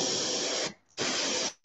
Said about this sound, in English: I'm gonna spray this grabber orange over the bottom yellow part